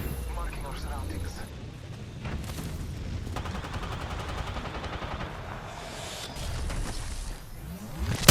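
Gunfire in the battle-royale video game Apex Legends, bursts of rapid shots and blasts layered over game noise while someone talks throughout.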